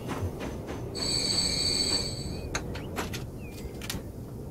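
A train in the video game Transport Fever 2, on a Greater London map, rumbles along its rails with a steady low roll, a sustained high wheel squeal and scattered clicks and rattles.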